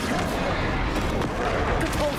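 Confringo fire spell blast from Hogwarts Legacy: dense, rumbling burst of noise spread across the full clip, continuous and fairly loud, with a voice partly mixed in.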